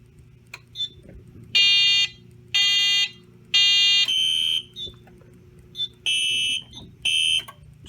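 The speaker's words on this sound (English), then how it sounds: "And the panel will go into alarm." A fire alarm panel goes into alarm after a smoke detector is tripped with a magnet, giving loud repeated electronic beeps in evenly spaced bursts over a low background hum.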